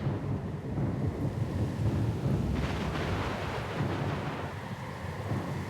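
A thunderstorm at sea in the Pillars of Eternity II: Deadfire game, with a loud deep rolling rumble of thunder over rushing rain and wind that swells midway, then settles back into a steady roar.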